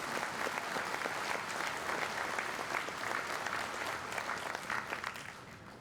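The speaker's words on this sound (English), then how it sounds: "You can clap for her" Commencement audience applauding in a large hall, a dense continuous wash of many hands clapping at steady loudness that tapers slightly toward the end, with no talk over it.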